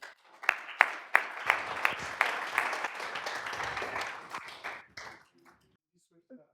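An audience at a college entrepreneurship seminar applauds as a speaker walks up to the stage, a dense burst of many hands clapping with a few sharper claps up front, fading out after about five seconds.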